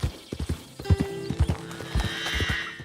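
Horse hooves clip-clop at a riding pace in ARK: Survival Ascended, a run of crisp irregular hoof strikes with a horse whinnying over them partway through, set against ambient background music.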